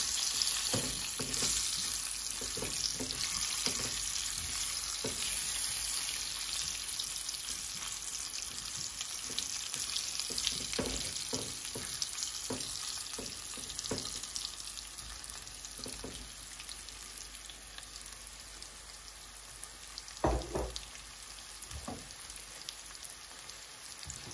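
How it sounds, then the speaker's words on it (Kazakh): Boiled potatoes frying in hot oil, a steady dense crackling sizzle lasting throughout with occasional sharper pops and scraping stirs, close and even, no voices. "Енді осы майымызға жаңағы суда піскен картошкамызды салып қуырамыз."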